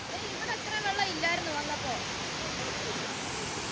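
Rain-swollen stream rushing past as a steady broadband roar, with some faint voices and chatter over the water early on.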